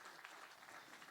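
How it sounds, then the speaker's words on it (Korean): A church congregation applauds a pastor's family with four children, a brief, steady wash of clapping from a moderately distant crowd. "박수 한번 해드릴까요?"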